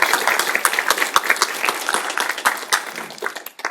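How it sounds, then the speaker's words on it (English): Audience at a Santa Clara panel discussion on AI applauding, a dense run of hand claps that swells and gradually thins toward the end. "Can we please give me a round of applause?"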